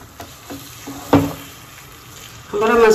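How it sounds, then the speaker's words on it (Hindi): Potato masala for vada pav being stirred in a pan, quiet frying sizzle with a few soft spoon scrapes and one louder knock, followed by a voice starting to speak at the end. "उन सबको अच्छे से हम हिला लेंगे"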